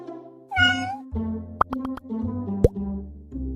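A cartoon cat meows, a single clear drawn-out meow near the start, followed by quieter musical tones and a few light plops against a soft background.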